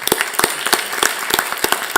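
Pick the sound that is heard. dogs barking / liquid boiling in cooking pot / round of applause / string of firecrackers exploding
round of applause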